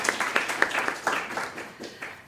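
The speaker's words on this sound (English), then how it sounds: "Oh, yes, we'll clap on that." A few people in a panel audience clap briefly and unevenly, a short patter of scattered hand claps that fades within a couple of seconds.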